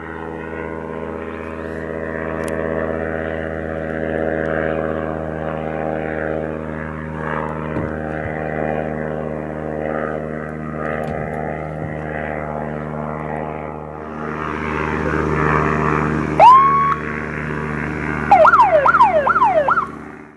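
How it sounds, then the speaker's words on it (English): Low-flying propeller aircraft passing overhead near a border area, a steady droning hum that swells louder toward the end, with a brief siren-like tone rising near the close. "Low-flying aircraft can be heard as they fly over."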